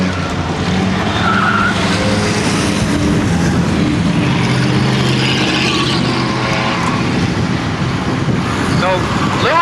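Race cars in an endurance race roar down the backstretch, a dense, loud engine rush with tire noise that persists throughout, while a commentator talks over it.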